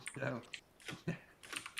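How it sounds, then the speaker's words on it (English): A computer keyboard being typed on gives quiet clusters of clicky keystrokes in irregular bursts, close to the microphone and fairly faint, with pauses between the groups. "Hey, John, we like typing"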